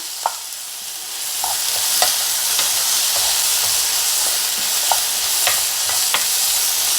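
Tofu and vegetables stir-fry together in one tilted pan, giving a continuous, close sizzle and hiss with occasional spatula taps and scrapes against the metal.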